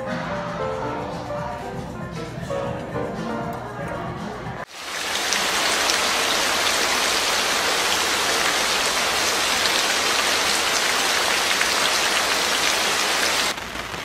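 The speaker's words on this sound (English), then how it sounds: "listening to the sounds of the rain and the sound of the lightning and thunder" Heavy rain falls on a camper, starting abruptly as a dense, loud, steady hiss and patter that fills the rest of the stretch after a few seconds of other background sound.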